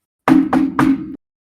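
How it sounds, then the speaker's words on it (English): Three distinct knocks on a door, firm and close, evenly spaced with a hollow, resonant wooden tone, followed by silence. "I start knocking on the door."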